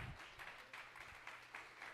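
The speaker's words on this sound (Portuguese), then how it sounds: "dá um salve de palmas para Jesus" An audience at a church service applauds Jesus, with a spread of steady clapping heard faintly and somewhat distant for a couple of seconds.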